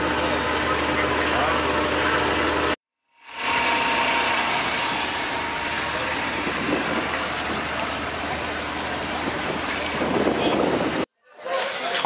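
A boat engine drones steadily and loudly on the water at Aswan, with a constant low hum and rushing wash, cut by two short silences. People talk over it.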